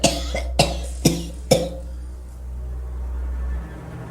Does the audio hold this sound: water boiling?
no